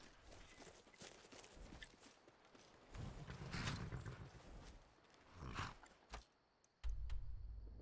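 A horse's hoofbeats in the video game Skyrim, a soft, quiet clip-clop of footsteps at rhythmic gallop pace with thuds and creaks, rising and falling in loudness over several seconds.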